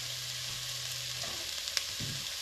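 Food browns in a pot with a steady, close sizzle and frying hiss, broken by a brief stirring clatter partway through.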